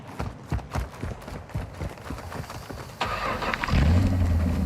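A truck engine turns over and starts mid-match in Call of Duty DMZ, the ignition kicking in partway through and settling into a loud, steady low rumble after earlier footsteps and game noise.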